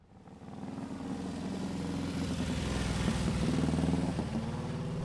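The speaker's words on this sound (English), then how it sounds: "three of the most significant historic works racing Brough Superiors on the planet" A historic works racing Brough Superior motorcycle engine runs steadily, its rumble building slightly over the first second and then holding at a loud, close, even drone, with no talk.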